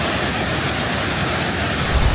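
Rushing water at Mae Sa Waterfall in Chiang Mai, a dense, steady roar of falling water that fills the whole moment at close range with no voices.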